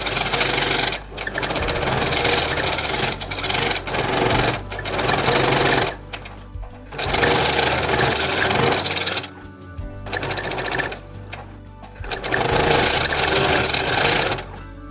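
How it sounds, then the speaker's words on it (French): A sewing machine stitches a narrow fabric hem for a summer dress, running in several long, steady bursts of fast mechanical whirring with short pauses between them, close and loud with no voices. "on va directement passer à la machine à coudre"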